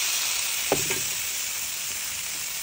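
Taro and squash drop into a hot pot and sizzle, a steady frying hiss with a brief clatter and stir near the start, and no talking.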